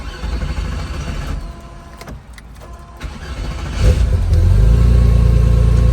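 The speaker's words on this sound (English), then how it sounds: "let's fire this car up" A used car with no sign of front-end collision damage starts up, then its engine rises into a steady, loud rev in the last seconds, close by and with no talk.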